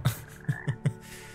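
Frog croaking in the video game Hogwarts Legacy: four short, low, gulping croaks, one isolated and then three in quick succession, clear and close over a quiet ambient backdrop with no talk.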